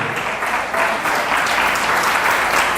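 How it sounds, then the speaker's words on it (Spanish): A congregation at a church retreat in El Salvador breaks into applause, a full, continuous roar of many hands clapping together without pause for a few seconds. "denle un aplauso a Él"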